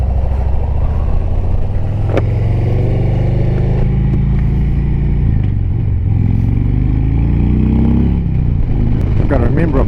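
Motorcycle ridden on a winter road through the Alps, its engine loud and close throughout with rising and falling revs as it changes pace, plus a brief clatter near the end.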